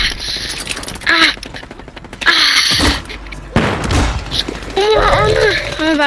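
Bursts of gunfire in Call of Duty Modern Warfare III come in loud clusters, mixed with excited shouting voices over the shooting.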